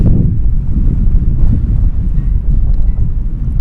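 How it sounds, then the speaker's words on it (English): Strong wind buffets the microphone on a mountain descent along the Continental Divide Trail in New Mexico, a loud, steady low roar with gusty surges throughout. "very windy as we come down"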